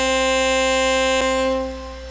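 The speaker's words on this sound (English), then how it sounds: "And that's the air horn" A locomotive air horn in the Trainz: A New Era railroad simulator holds a loud, steady multi-tone chord for about two seconds, then fades away, with no voices.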